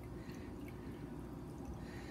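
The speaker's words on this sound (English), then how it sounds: "That's 1/2 cup of whey. Let's just pour that on." Whey is poured over cabbage for kimchi, making a quiet, steady liquid trickle and splash with no talking.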